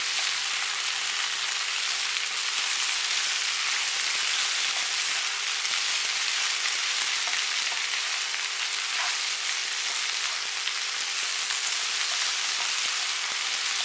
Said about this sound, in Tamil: வெண்டைக்காய் நல்லா இந்த வளவளப்புலாம் போகிற அளவுக்கு நல்லா வணக்கிக்கோங்க